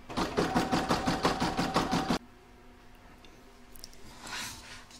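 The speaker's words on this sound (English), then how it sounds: "I'll now pop that back in my machine and stitch round number 11." An embroidery sewing machine stitches a patchwork star design, its needle running in a fast, even mechanical rhythm for about two seconds before stopping abruptly. Quiet room noise and faint handling sounds follow.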